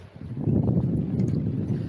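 Wind buffets the microphone on a beach in September with windsurfing nearby, a loud low rumbling gust that rises sharply after a quiet start and keeps roaring with uneven swells.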